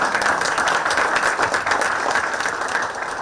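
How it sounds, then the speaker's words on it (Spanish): Audience applause at a cybersecurity panel event, a steady wash of many hands clapping at close range, fairly loud and even for a few seconds with no talking over it. "un aplauso por favor"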